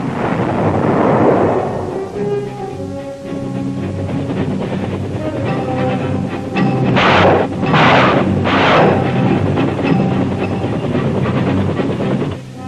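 Air strikes and artillery fire pound ahead of an infantry advance through jungle, with deep rolling booms and a few sharp blasts mid-way over a constant low rumble.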